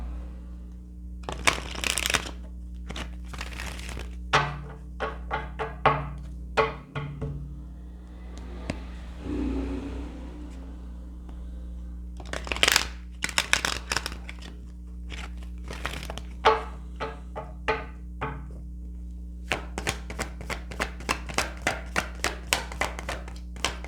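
Tarot cards are shuffled and drawn at a table, with dense bursts of riffling and crisp slaps alternating with brief pauses and one softer rustling stretch, close and fairly loud without talk.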